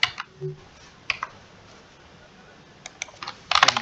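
Keys clicking on a computer keyboard while Java code is typed in a beginner programming lesson, a few scattered keystrokes early on, then a denser burst of taps near the end, close and fairly quiet.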